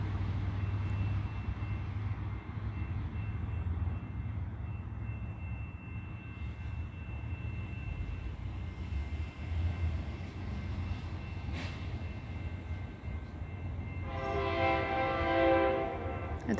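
A Metrolink commuter train rumbles past at night with a steady low roar, and a horn blast rises near the end over the continuous rolling noise.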